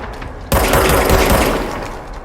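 Rapid automatic gunfire from the action video game Control erupts after a brief quiet start, loud and dense with booming impacts before slowly trailing off.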